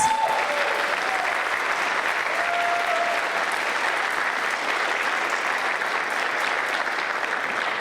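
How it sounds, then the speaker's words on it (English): Sustained applause from a pageant audience, loud and continuous clapping without pause for several seconds. "Let's give them one more round of applause."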